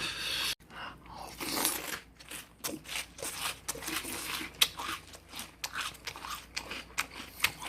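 Crunchy chocolate cereal, mixed with other cereals, chewed close to the mic, with repeated crisp crunching bites in an uneven rhythm throughout, fairly quiet overall.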